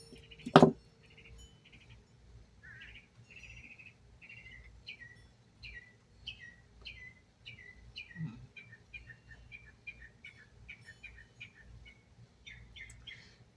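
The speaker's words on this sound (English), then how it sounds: "Hear them beautiful birds singing." Several birds sing and chirp outdoors in a steady run of short, bright phrases repeated throughout, moderately near, with a sharp clunk at the start and a soft knock partway through and no talk.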